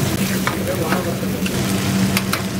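Butter chicken sizzles steadily as it reheats in a pan, a close, continuous frying hiss with occasional clicks and stirring scrapes, and a faint hum underneath.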